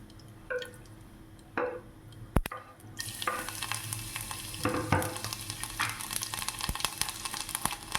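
Garlic and mustard seeds fry in hot oil in a kadhai, a few scrapes and stirs at first, then a sudden rise to a steady, crackling sizzle with intermittent spoon stirs against the pan.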